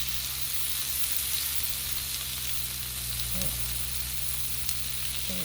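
Beef fried rice sizzles steadily on a Blackstone griddle, a dense continuous frying hiss with faint scrapes and clicks now and then, close and alone without talk.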